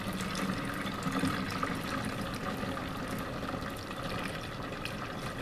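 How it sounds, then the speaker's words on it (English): Fabric softener poured from a gallon jug through a funnel over a sink, a steady continuous liquid gurgle and trickle lasting several seconds without pause. "I'm just going to pour the fabric softener"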